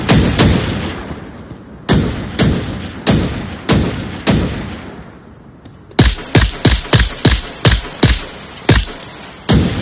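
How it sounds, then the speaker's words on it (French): Loud, close gunfire in the VR shooter Onward VR: single heavy shots spaced out, then a rapid burst of about ten shots, each with a sharp crack and short decay, with no talking. "Qui me tire dessus?"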